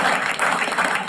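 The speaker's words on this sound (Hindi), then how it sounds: "इनके लिए जोरदार तालियां हो जाए भाई साहब के लिए" A stand-up comedy crowd claps in a brief, dense burst of steady applause.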